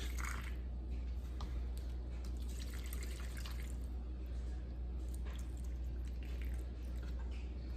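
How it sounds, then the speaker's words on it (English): Water and chicken bouillon mix poured into the corners of a turkey dish, a soft, quiet trickle and drip of liquid heard alone at close range with no talking. "we have our little water and chicken bouillon mix, and we just pour that in the corners of the dish."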